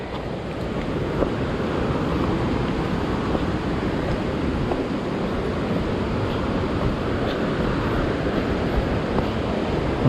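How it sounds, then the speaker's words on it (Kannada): Netgod Waterfalls roars with a steady, dense rush of falling water, loud and unbroken throughout with no voices. "ಒಂದು ಅದ್ಭುತವಾದಂಥ ಜಲಪಾತ ನಿಜವಾಗ್ಲೂ ಹೇಳಬೇಕಂದ್ರೆ."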